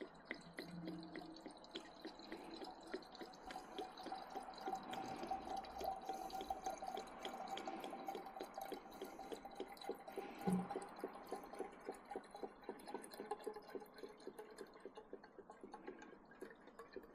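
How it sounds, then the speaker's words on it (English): Coolant trickles and drips into the radiator of a classic Mini, a faint, steady liquid pouring with small rhythmic ticks and splashes, quiet and close throughout. "And then we'll fill the radiator up with coolant."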